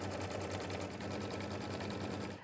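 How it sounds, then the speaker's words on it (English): A home embroidery machine stitches a placement outline for an appliqué, a steady close mechanical whirr with rapid needle pulses, running continuously before stopping at the end. "The first stitch is the placement outline to show me where to place my baddie."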